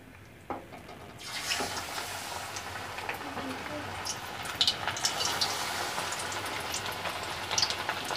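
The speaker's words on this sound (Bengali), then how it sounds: "এখন সেই পিসগুলো মাংসের পিসগুলো আমি একটা একটা করে এই গরম তেলে ছেড়ে দিব।" Spiced chicken pieces, KFC-style, dropped one by one into hot oil and frying over low-medium heat, giving a steady, fairly loud broadband sizzle that starts abruptly and continues with small crackles throughout.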